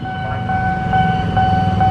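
KRL commuter train bound for Bekasi passing a busy level crossing in Jakarta, a steady loud rumble with a sustained two-tone crossing bell or warning tone ringing continuously over it, no talk.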